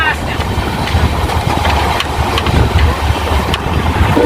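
Rumble of the Kolkata–Balurghat Tebhaga Express passenger train, an LHB coach rake, running on the Howrah–Bardhaman chord line toward Madhusudanpur station, heard from inside as a loud, continuous low roar with occasional clacks.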